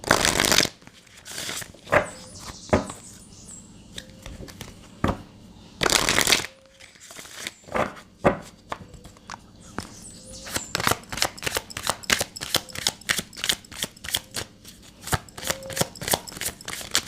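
Tarot cards handled and drawn from a deck: bursts of riffled shuffling, then a rapid run of crisp flicks and slaps as cards are handled close by.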